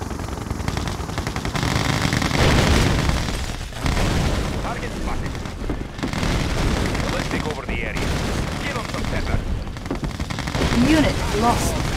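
Machine-gun bursts and explosions from the real-time strategy game Red Alert 2: Yuri's Revenge on an extra-hard AI map, a dense continuous battle din with booms throughout and game voice lines mixed in.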